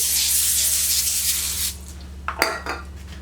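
A steady hiss of aerosol oil spray onto a lined cookie sheet runs for about a second and a half, close by, then stops, followed by a few light clinks and rustles.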